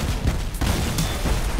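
Heavy mammoth cannon in the vehicle-combat game Crossout blasting at a vehicle, a dense run of loud, close booming shots with rumbling low end and crackling impacts packed into a short burst, no talk over it.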